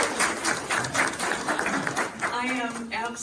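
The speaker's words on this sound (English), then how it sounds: "Give me a round of applause for trustee Harmon." Applause at an outdoor college groundbreaking ceremony, a steady crowd clapping for a trustee, with voices mixed in.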